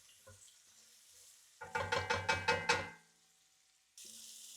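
Seafood pasta with prawns, scallops, calamari and mussels is stirred in oil in a pan: about six quick, evenly spaced scraping sizzles in a row, close and moderately loud, then quiet.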